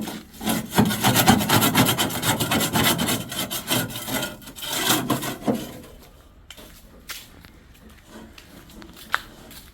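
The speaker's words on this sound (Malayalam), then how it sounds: "സൈഡ് നമ്മൾ കട്ട് ചെയ്ത് മാറ്റുന്നുണ്ട് കേട്ടോ" Rapid rasping strokes of a cutting tool through a side piece during rear detailing on a Maruti 800, a dense, rhythmic scraping that runs for about six seconds and then thins into sparse, scattered scrapes and taps.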